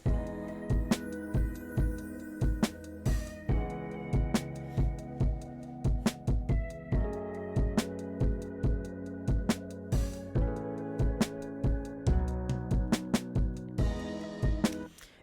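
A bright, heavily effected synth plays chords in a dream pop track made in Ableton Live 12, over steady drum hits and a thick, full mix with no voices.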